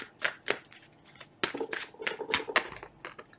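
Tarot cards being shuffled up close: irregular bursts of papery slapping and riffling, pausing briefly before a denser flurry.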